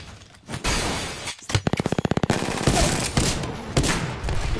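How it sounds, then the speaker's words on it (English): Gunfire in a multiplayer shooter game: a rapid string of evenly spaced shots after a loud opening blast, with sharp cracks and crashing noise around it, loud and close. "Are you getting shot at?"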